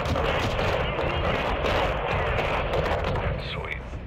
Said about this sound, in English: I'm firing at the enemies below you!